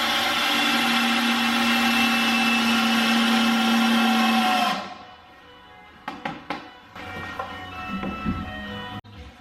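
A power drill whines steadily at high speed for several seconds drilling wood during a newel post installation, then stops, followed by scattered clunks and handling noises nearby.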